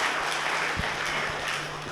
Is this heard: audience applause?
yes